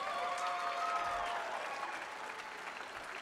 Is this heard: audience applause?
yes